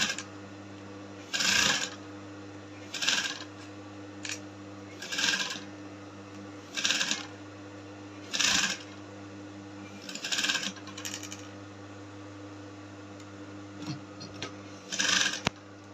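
A sewing machine stitching a corset with bra cups sews in short regular bursts about every one and a half seconds, with a steady low hum running underneath and brief pauses between runs.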